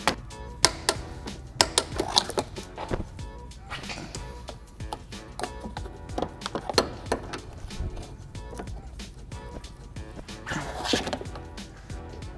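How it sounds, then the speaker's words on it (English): A wrench tightens the brace bolts on a BMW subframe, giving rapid sharp metallic clicks and knocks in irregular bursts, close up with some background noise. "first we're gonna tighten down the 4/16s at the front of the two braces"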